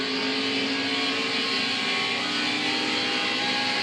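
A NASCAR race car engine drones loud and close at full throttle during practice at Phoenix, a steady, sustained roar with a bright, buzzing tone, heard from on board while running in traffic.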